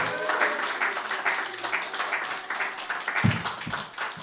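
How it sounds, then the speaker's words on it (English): Audience applause welcoming the host of an open mic stand-up comedy night, a dense wash of clapping from a room of people, steady and fairly loud throughout with a few sharper claps near the end. "Please help me welcome with a big round of applause your host for the night, Mr. Greg Debrosky."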